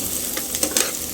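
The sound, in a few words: onion and garlic sautéing in a pan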